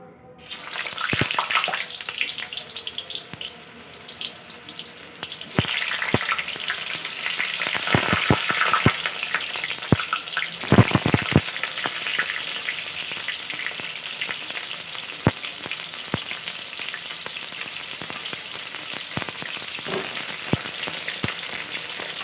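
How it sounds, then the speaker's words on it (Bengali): Pointed gourd (potol) frying in hot oil in a wok makes a steady, close sizzle with crackling pops, and sharper bursts of spatter come as the pieces are stirred and turned. "তো পটলগুলো ভেজে নেব"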